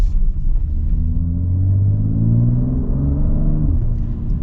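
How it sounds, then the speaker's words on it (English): A 2023 Mercedes-AMG GLC43 in Sport Plus mode with its exhaust valves open gives a deep, close engine and exhaust rumble that climbs steadily in pitch as it accelerates, then eases off near the end. "Transmission gets really aggressive and snappy once you pop it into that setting. Yeah, listen to that, and you can hear the valves are open too."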